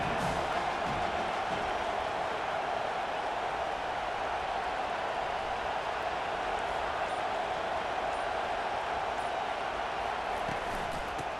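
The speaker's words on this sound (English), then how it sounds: "They challenge this crowd to bring the energy," A football stadium crowd roars in a steady, unbroken wash of cheering, broad and distant-sounding, holding at an even level throughout with no clear individual voices.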